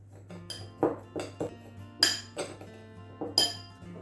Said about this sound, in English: so just give that a good mix up.